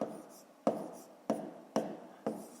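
Pen or pencil writing numbers by hand on paper during a fifth-grade maths exercise, a steady close scratching broken by four sharp taps as each stroke or digit begins.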